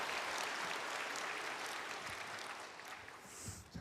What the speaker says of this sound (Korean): 나올 때 우리 박수로 환영하겠습니다